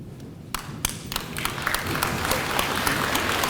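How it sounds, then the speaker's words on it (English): Applause at a school awards celebration honoring faculty and staff, starting with a few scattered claps and swelling into dense, sustained clapping from a large audience in a hall. "please, students, give them a big round of applause as well as guests"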